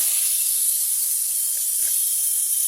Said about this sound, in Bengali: দিয়ে দেছে জিরা আর রসুন। এখন একটু কষাই নি মশলাটা।